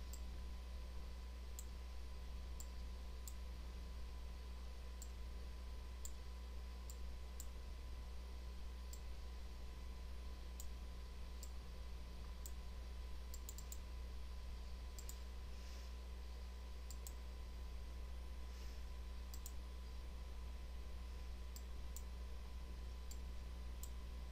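Computer mouse clicks during work in Adobe Illustrator, faint single clicks scattered irregularly over a steady electrical hum.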